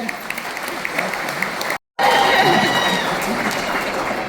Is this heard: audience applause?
yes